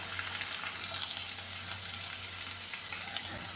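Chopped shallots and onion sizzle steadily in hot oil with garlic, a continuous close frying hiss with no talking.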